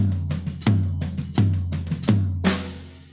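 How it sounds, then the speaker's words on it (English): Five sharp rack tom hits ring out at a steady pace, each with a low, booming decay, followed by a crashing cymbal-like wash at the end. "That's just that rack tom."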